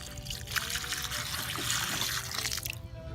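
Dirty fish tank water pours out in a steady, close trickle and splash, continuous for a few seconds before tapering off near the end.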